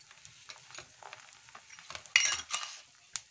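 Cinnamon, bay leaves and cardamom roasting in hot oil: a quiet sizzle with light scraping stirs, then a sharper burst of crackle and clinks as the pan is worked, brief and close.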